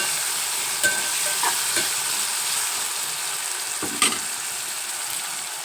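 Tomatoes frying together with onions in a hot pan, a steady close sizzle with a few sharp clicks of stirring scattered through, no talking.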